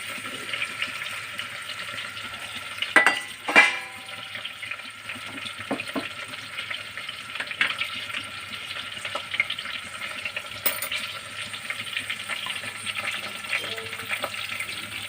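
Raw mango pieces, stone included, sizzle and fry in a pan with onion for a mango dal, with a steady hiss and a few sharp stirring scrapes and clinks near the start.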